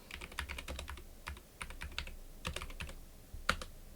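Rapid keystrokes on a computer keyboard while entering a Linux terminal command on a chia plotting rig, a close, crisp run of clicks in irregular bursts with short pauses and one sharper final keypress.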